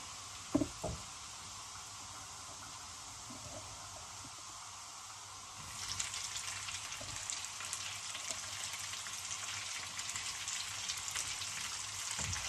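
Bell peppers hit hot oil in a wok for a vegetable and seafood stir-fry, with a couple of sharp knocks at first, then a steady loud sizzle that swells and holds to the end.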